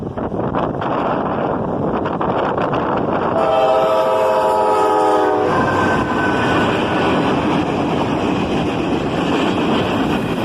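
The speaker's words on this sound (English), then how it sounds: "A single CSX locomotive leads a maintenance of way train north." A single CSX locomotive leads a maintenance of way train north on a cold, windy night, its horn sounding in a long blast midway through over the rumble of the passing train and heavy wind noise.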